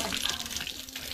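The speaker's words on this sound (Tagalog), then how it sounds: "Lakas pa rin ng tubig." Water from a water pump gushes strongly in a steady, splashing rush at close range, with no talk.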